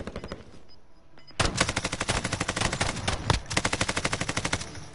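Sustained automatic gunfire in Call of Duty Warzone on PS4, a rapid, steady stream of close, loud shots lasting several seconds after a brief quieter lead-in.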